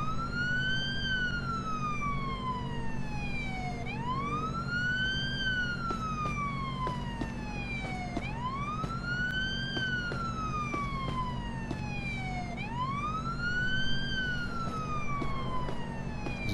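An ambulance siren in the Police Simulator: Patrol Officers game wails loudly in repeated rising and falling sweeps over a steady engine drone, continuous throughout, with no speech.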